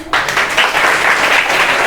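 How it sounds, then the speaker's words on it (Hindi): A crowd claps after a children's street play about where to throw garbage, a loud, dense burst of applause starting abruptly and continuing evenly close by. "एक जोरदार ताली आप लोगों के लिए"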